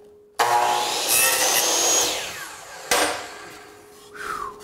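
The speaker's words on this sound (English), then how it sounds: "I can cut and trim off the backside." A power saw cuts wood door or window trim held against the fence: a sharp, loud start, a whining cut for a couple of seconds, then a second burst and the blade spinning down.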